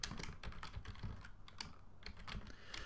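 Steady, rapid tapping on a computer keyboard while code is typed, close and fairly quiet, with irregular clusters of keystrokes and no voices.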